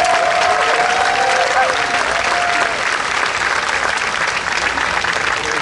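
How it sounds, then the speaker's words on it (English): Steady, loud applause from a rally crowd at San Diego Pride, continuous clapping with a few shouts and cheers layered on top, holding an even level for the whole stretch. "A strong round of applause for Jen Russell"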